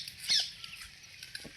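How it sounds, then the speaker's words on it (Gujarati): Heavy rain pours down outdoors as a steady, faint, broad hiss with soft patter, plus one slightly louder surge near the start. "આજ બહુ વરસાદ પડ્યો"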